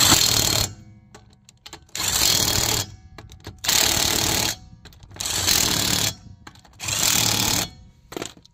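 Several bursts from an AEG cordless impact wrench tightening fasteners during brake disc and pad work on a 2016 Peugeot Expert, five loud rattling hammering runs of about a second each separated by short pauses.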